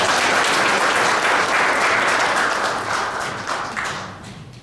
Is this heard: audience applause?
yes